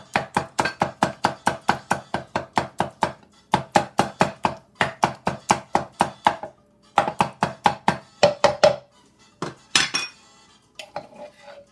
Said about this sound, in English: You take your mortar pestle and you sort of squash up the garlic